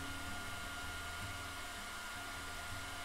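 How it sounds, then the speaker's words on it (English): A hair dryer blows hot air onto gouache paint samples with a steady, loud whooshing roar and motor hum that continues unbroken throughout. "Now I'll use the hair dryer to accelerate the drying time of the paints."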